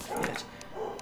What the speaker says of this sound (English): I'm really sorry about the barking